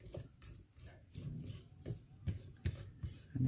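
A spatula scrapes lemon loaf batter from a mixing bowl in quick repeated rasping strokes, close and fairly soft, with no talking.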